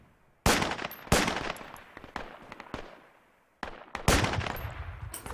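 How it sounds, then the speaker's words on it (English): Gunfire in Project Reality comes as loud, close bursts of automatic shots, with sharp reports and short echoing tails, then a pause before another burst. "Shoot the guy in the window, he's one below."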